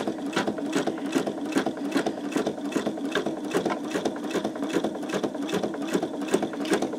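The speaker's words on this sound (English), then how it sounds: "That is where it trimmed the thread and it started a new stitch area." An embroidery machine stitches in a rapid regular mechanical chatter of needle strokes, then trims the thread and starts a new stitch area, close and steady with slight pulsing and no voices.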